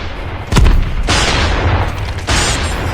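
A booming explosion in the mobile shooter Call of Duty Mobile, a sharp loud blast followed by rumbling debris and a second burst, with no talk over it.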